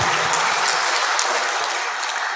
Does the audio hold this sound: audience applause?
yes